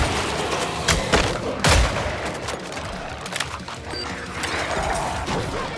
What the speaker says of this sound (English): This gun has always sounded good